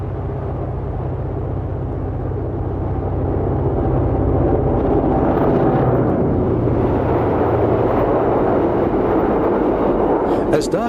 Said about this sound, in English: P13 hauling 4 commuter cars at the summit